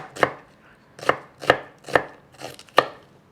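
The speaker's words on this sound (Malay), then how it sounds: "Potong bawang besar lah." A knife chops through a large onion on a cutting board, six crisp, evenly spaced thuds close up, with no one speaking.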